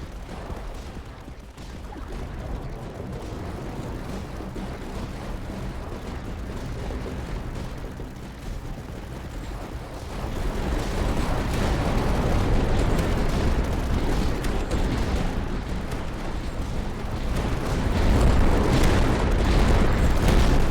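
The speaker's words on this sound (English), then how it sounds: "Now we get 2 bombing runs in quick succession every time." A bombing run in Voices of the Void produces a continuous deep rumble of distant explosions that swells louder partway through and keeps rolling to the end.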